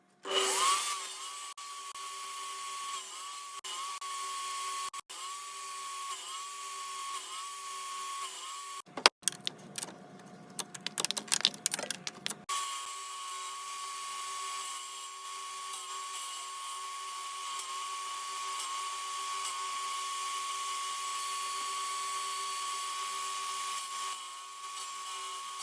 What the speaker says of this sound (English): I need to notch this section and this section out to accept the back rails.